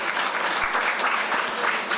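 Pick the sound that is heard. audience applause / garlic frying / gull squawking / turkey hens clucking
audience applause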